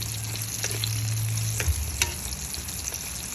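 Flour-coated potato mojos frying in hot oil give a steady, dense sizzle throughout, with a few soft knocks from stirring partway through.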